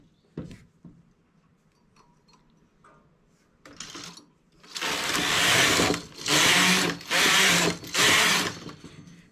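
A domestic knitting machine carriage rows back and forth while a baby wrap cardigan is knitted. A few faint clicks come first, then four loud, steady whirring passes separated by short pauses.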